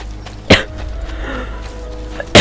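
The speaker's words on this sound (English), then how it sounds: "I have a bad cough." A person coughs sharply twice, once early and once at the end, close to the microphone, over the faint background of an Assassin's Creed Brotherhood game.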